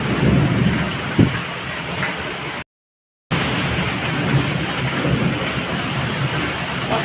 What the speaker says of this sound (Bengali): কত জোরে বৃষ্টি হচ্ছে দেখো।